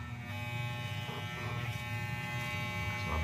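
Super Taper electric hair clipper running after a repair, a steady close-up motor buzz with a low hum that stays even and unbroken throughout.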